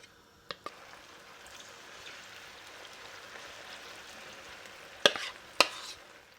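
Cauliflower pieces for Gobi Manchurian fry in a pan with a faint, soft sizzle, broken by a few sharp clicks and two louder scraping knocks near the end.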